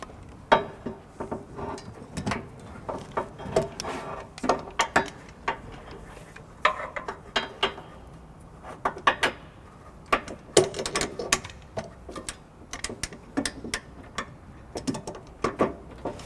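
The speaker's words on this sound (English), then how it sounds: "we're going to go ahead and torque all the bolts down to the manufacturer specs" A ratchet on an extension with an 11/16 socket tightens trailer hitch bolts under a 2013-2017 Subaru Crosstrek, giving bursts of quick close clicking with short pauses between strokes; no voices.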